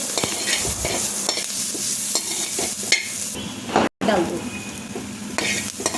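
Grated ginger, about an inch's worth, frying in a pan, giving a steady close sizzle with stirring scrapes throughout and a brief dropout near the middle.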